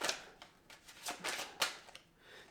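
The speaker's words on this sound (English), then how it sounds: "The way I'm shuffling, I'm blaming it on the cards, and it's not the cards." Tarot cards being shuffled by hand, a series of quiet close riffling and slapping bursts at an uneven rhythm, with no talking.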